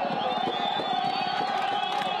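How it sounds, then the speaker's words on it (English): A large crowd in Egypt cheers and shouts continuously at Mubarak's trial, a dense roar of many voices with whoops rising above it. "the crowd erupted in cheers"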